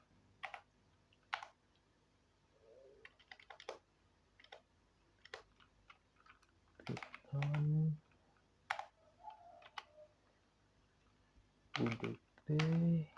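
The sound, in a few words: typing on a computer keyboard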